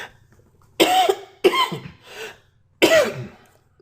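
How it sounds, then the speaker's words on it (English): Three sharp, close coughs in quick succession, the last a little apart from the first two, with quiet pauses between. "Let me mute out because I feel a cough."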